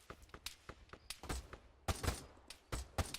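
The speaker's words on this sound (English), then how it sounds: "at this point now they're properly firing back" Enemy AI soldiers fire back during an ambush in the video game Arma 3 on Tanoa, with sharp, spaced gunshots cracking out one after another, some nearer and louder, over a quiet background.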